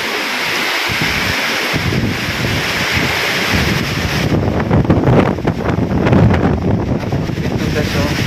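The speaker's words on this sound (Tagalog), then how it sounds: "Palakas ang hangin." Strong storm wind gusting hard during flooding, a broad roaring rush with surging gusts that swell louder and rougher partway through, with speech faintly mixed in.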